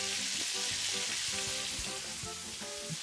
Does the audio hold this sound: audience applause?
no